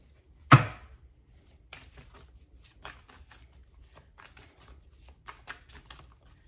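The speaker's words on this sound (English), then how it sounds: "Shuffling for the Divine Feminine and the Divine Masculine." A deck of tarot cards is shuffled by hand, with one sharp slap or snap of the cards near the start followed by a run of soft, uneven riffling and flicking sounds, close and quiet with no talking.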